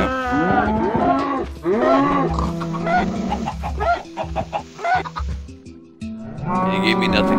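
Cows in the Minecraft video game moo loudly several times in quick succession, mixed with clucking chickens in a crowded farm pen.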